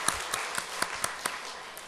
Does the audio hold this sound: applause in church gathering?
yes